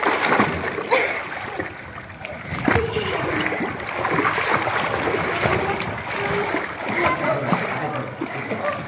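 People swimming in a pool: repeated splashing and sloshing water, close and continuous, with people talking over it.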